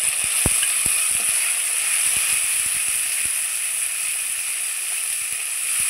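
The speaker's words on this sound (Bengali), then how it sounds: "এবার আমি দিয়ে দিচ্ছি বেটে রাখা পোস্ত, সর্ষে আর কাঁচা লঙ্কা।" Ground poppy seed, mustard paste and green chilli fry with tomato in hot oil, a steady, bright sizzle running throughout with faint taps from stirring.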